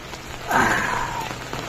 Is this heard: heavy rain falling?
yes